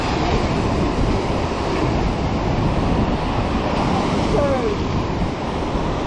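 Sea surf washes against a rocky shore where people are fishing, a steady broadband roar that stays close and loud throughout with no talk.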